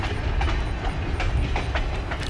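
Train running along the Spurr River line at Nestoria, a loud, close, steady rumble with faint rhythmic clickety-clack of wheels over rail joints and no voices.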